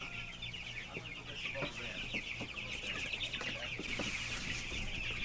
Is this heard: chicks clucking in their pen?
yes